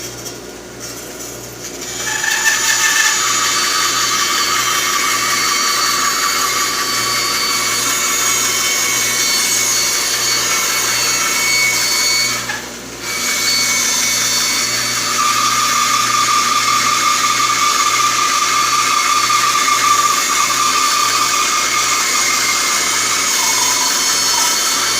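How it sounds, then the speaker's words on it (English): A Delta band saw with a riser block and table extension cuts through wood in a workshop, a steady loud whine and rasp running for over twenty seconds with one brief dip midway, no talking. "Let's flip it around, throw it on the saw. Okay, we'll make our second cut."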